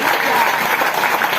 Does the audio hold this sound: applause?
yes